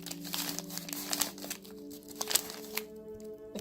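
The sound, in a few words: crinkling of ridiculous cold-shipping packaging being handled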